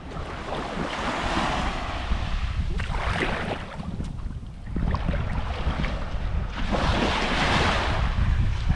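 Blustery wind on a beach in Phu Quoc, with crashing surf and rushing air buffeting the microphone in long, swelling gusts, loud and close throughout.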